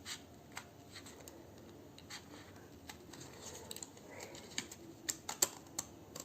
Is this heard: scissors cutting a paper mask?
yes